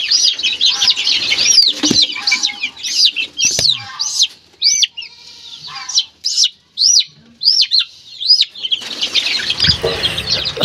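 Pet chicks peeping in a run of high, quick chirps, close and fairly loud, some overlapping in bursts with short gaps, plus faint rustling and occasional light wing flaps.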